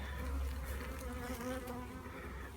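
Honeybees buzz steadily during a winter hive check, a dense close-up drone of many wings holding level throughout with no talk.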